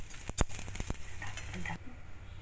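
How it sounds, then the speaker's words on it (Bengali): A tempering of bay leaf, dried chilli and cumin hits hot ghee with a few sharp utensil clinks and a crackling sizzle that cuts off abruptly partway through, leaving a quiet tail. "এবারে আমি একটু ফোড়ন দিলাম, তেজপাতা, আধখানা বিট ছাড়ানো শুকনো লঙ্কা আর জিরে।"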